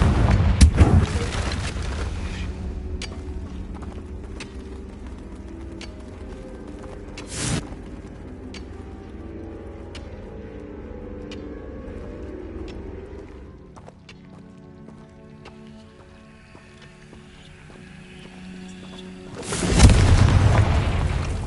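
Confringo fire-spell explosions in the video game Hogwarts Legacy: a loud booming blast at the start, a sharp one around the middle and a heavy burst at the end, over steady in-game music and ambience.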